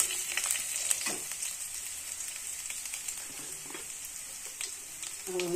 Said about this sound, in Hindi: देखिए अभी हमारा अदरक और जीरा ये भून जाएगा